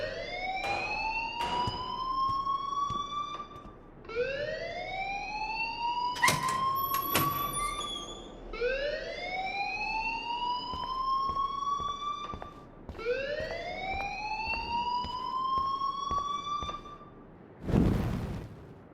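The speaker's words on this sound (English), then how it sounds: "please turn off that alarm since that's your job" A rising, wailing school alarm in Life is Strange sweeps upward in four repeated cycles, loud and piercing, with a few sharp clanks and a brief noisy burst near the end.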